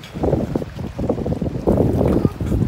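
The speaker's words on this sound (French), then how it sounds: "Alors, il y aura du vent là." Wind buffeting the microphone on seaside rocks, a loud, steady low roar with gusty surges that swells stronger toward the end.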